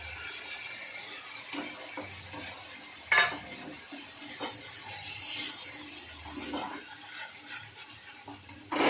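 Tomatoes and cracked cardamom frying in oil give a soft, close sizzle with intermittent stirring and a few sharp utensil knocks against the pan, no speech.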